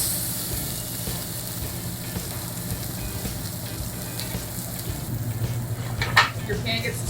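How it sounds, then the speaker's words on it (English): Fish sizzling and frying in hot oil in a pan, a steady close crackling hiss with a brief clatter near the end as it settles. "Add our fish to that nice sizzle."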